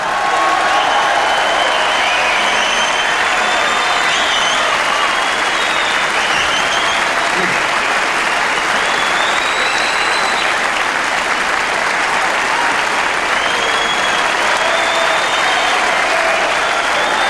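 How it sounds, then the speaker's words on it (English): A snooker crowd at the 1997 Masters final gives loud, sustained applause for the runner-up, a thick continuous roar of clapping with scattered cheers that holds steady for the whole stretch. "Your applause, please, for our runner-up, Ronnie O'Sullivan."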